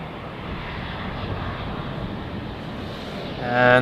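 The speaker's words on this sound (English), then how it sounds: "And another Embraer with haste will enter our field of view from the left." A KLM Embraer jet airliner passes over Schiphol's Polderbaan, a steady broadband engine rush that swells near the end as the jet draws closer.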